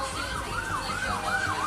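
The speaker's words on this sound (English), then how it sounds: "You hear the sirens, there's an ambulance coming." A wailing ambulance siren sweeps up and down in repeated rising and falling cycles, steady and fairly loud throughout as the emergency vehicle approaches, with no voices over it.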